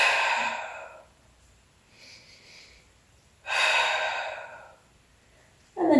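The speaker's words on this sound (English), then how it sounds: "We got 2 more big breaths." Deep breaths during a beginner mat Pilates exercise, loud and close: a long exhale, a quiet inhale, then another long exhale and the start of a third, with no talking.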